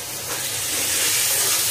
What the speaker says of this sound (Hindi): अब टमाटर डालेंगे, टमाटर डाल के 1 से 2 मिनट तक मैं इसको भूनती हूँ।